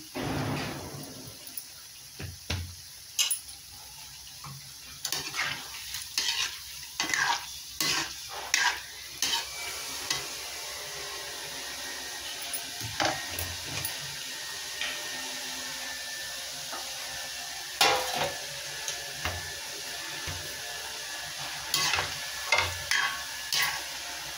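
Shankarpali dough, a Marathi fried snack, sizzles and crackles steadily in hot oil, with frequent sharper pops and stirring clatter close by, continuous throughout with no talking.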